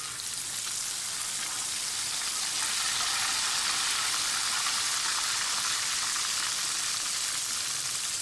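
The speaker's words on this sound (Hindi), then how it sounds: "इसी तरह से बाकी की जो पेरी पेरी बाइट्स हैं उनको भी फ्राई कर लेंगे" Peri peri chilli cheese bites fry in hot oil with a dense, steady sizzle that stays close and continuous throughout, with no talking.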